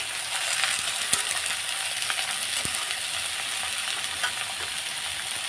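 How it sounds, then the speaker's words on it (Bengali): Boiled potato fritters sizzling in a pan of white oil: an even, close hissing bed that runs throughout, broken by a few sharp clicks and light knocks of a spatula, with no speech. "আলু ভাজাটা আগে বসিয়ে দিলাম"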